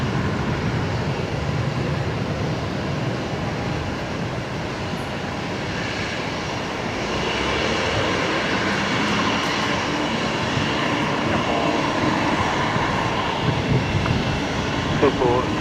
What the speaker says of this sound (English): Singapore 245, the A350-900, one of 4 daily services